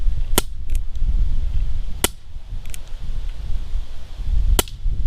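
Umarex Avera air pistol firing, three sharp snapping shots spaced a couple of seconds apart, each a crisp crack over a low background rumble.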